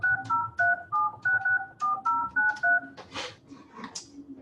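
Telephone keypad dialing tones from a call to condos: a rapid series of about a dozen distinct DTMF beeps in an even rhythm, clear and close, followed by a couple of short rushing noises.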